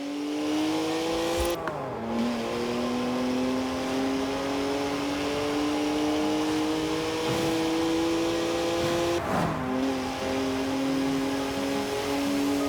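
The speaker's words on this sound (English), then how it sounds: "Hang on, that's my BMW 1M." A BMW 1M with a 3-litre straight-six engine drives past and revs, its tone climbing steadily with brief drops at two gear changes, fairly close and alone without speech.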